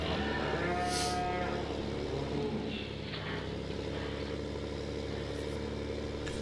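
Dairy cows moo in the Farming Simulator 15 video game, one clear drawn-out moo near the start over a steady engine-like hum that continues throughout.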